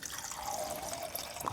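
Water pours into a portable fruit juicer, a short, faint, splashy trickle of filling liquid with no voices.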